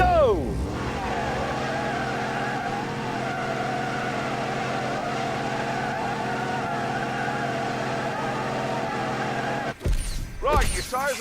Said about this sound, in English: that was just a celebratory burnout